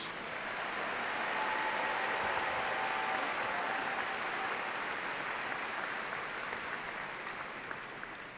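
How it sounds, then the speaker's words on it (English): At a spring university commencement, the audience gives another round of applause for doctoral graduates, a broad, even roar of clapping that holds steady for several seconds before easing slightly at the end, with no talking over it. "Please join me in extending another round of applause for our doctoral graduates."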